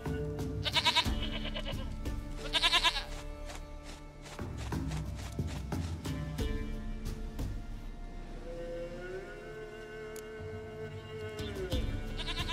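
A goat in The Witcher 3 video game bleats in several loud, wavering bursts near the start, followed by scattered clicks, thuds and a low sustained tone, with no talk.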